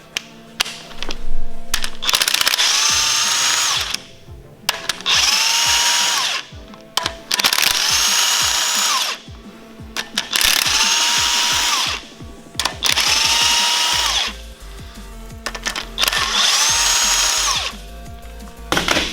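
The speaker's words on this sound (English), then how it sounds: "we can just rattle these off with an impact now that they're all loose." Impact wrench rattling loose head bolts off a Subaru engine during a head gasket job: six loud, close bursts of buzzing hammering, each lasting one to two seconds, with brief metallic clinks and pauses between them.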